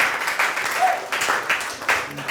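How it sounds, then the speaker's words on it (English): A round of applause from the audience at an energy career seminar, thanking a woman named Millicent after her talk: a short, moderately loud burst of clapping with some voices mixed in. "Another round of applause for her"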